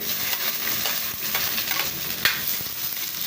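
Garlic, onion and tomato sautéing in a pan for monggo bean guisado, a dense close sizzle with continuous stirring scrapes and one sharper clink.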